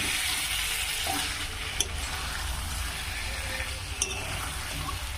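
Fried cauliflower with spices stirred in a hot pan, steady close sizzling with occasional scraping clicks of the spoon against the pan.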